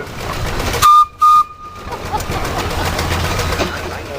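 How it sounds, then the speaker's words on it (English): Steam engine whistle from a 1920-era steam engine at a steam show, two loud, steady blasts in quick succession, each about a quarter second long, with a short gap between, followed by a low engine rumble and crowd noise. "So how about a whistle there, Luke?"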